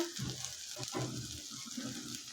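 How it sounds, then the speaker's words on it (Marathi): A spiced masala paste sautés in a pan for a sprouted moth bean curry, giving a steady close sizzle with soft scraping as it is stirred and mixed, and no voices. "आता हे सर्व मिक्स करायचं आहे व्यवस्थित आणि छान परतून घ्यायचं आहे"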